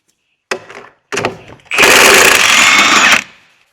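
A ratcheting socket and spanner work loose a bolt during a Peugeot 208 front wheel bearing job, with two short mechanical bursts followed by a louder sustained rapid ratcheting rattle, close and loud, with no talk.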